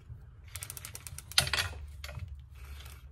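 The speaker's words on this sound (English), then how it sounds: "I took that line and I just drug that drag." An Okuma spinning reel's drag gives out as line is pulled from it, making a rapid ratcheting clicking in bursts with a sharper mechanical clack partway through. It sounds close and dry, with no talk.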